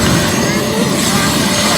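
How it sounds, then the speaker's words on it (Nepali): A helicopter flies during a sightseeing ride in Hawaii, with a loud, steady, broadband whirring drone that holds without a break for the whole short stretch. "यही हेलिकप्टरदेखि जानु नानी जोनो यही हेलिकप्टरदेखि जाँदैछ"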